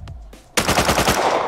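A rapid burst of MP5 submachine gun fire from the video game Rust, loud sharp repeated shots starting after a brief quieter moment, with faint background sounds before the burst.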